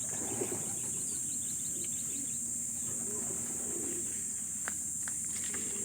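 Racing pigeons cooing and calling softly at the loft during a land training drop, with a few faint chirps over a steady outdoor hum.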